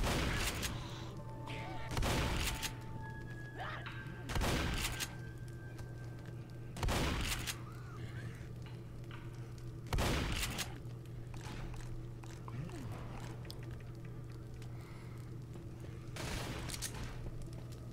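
Guns firing at zombies in the video game Left 4 Dead, repeated loud bursts of gunfire spaced a couple of seconds apart over a steady background hum, with a few softer thuds between.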